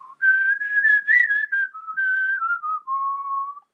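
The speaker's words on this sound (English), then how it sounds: "I love the whistling theme in this one" Whistled melody of a western film theme, a clear solo tune of sustained notes with vibrato and brief breaks, loud and alone with no talk.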